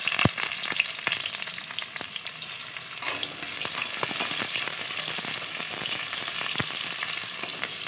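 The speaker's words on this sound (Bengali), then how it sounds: "এবার এর মধ্যে আমি প্রথমে দিয়ে দেবো রসুন কুচি, তার মধ্যে দিয়ে দেবো পেঁয়াজ কুচি" Chopped garlic and onion fry in hot oil for homemade pasta, giving a steady, close, dense sizzle with crackling pops and occasional stirring clinks throughout, and no voices.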